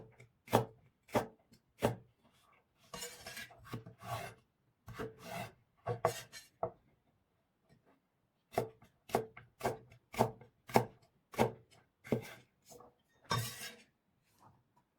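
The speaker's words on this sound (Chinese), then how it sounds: "先切成条，然后再切成菱形块" A knife chops carrot on a cutting board, first into strips and then into diamond-shaped pieces, giving close, crisp, evenly spaced strikes in bursts, with a short pause in the middle.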